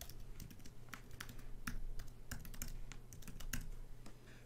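Someone types an email address on a computer keyboard, a quick, irregular run of crisp close-up key clicks and taps going on steadily with no talking.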